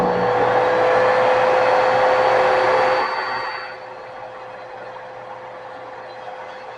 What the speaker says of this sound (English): the dust collection system I've got set up perfect